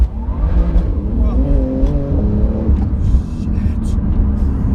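A Porsche 911 GT2 RS launches off the lights and accelerates hard, its engine note rising in a loud, rumbling surge heard from inside the car, with a rising pitch through the gears.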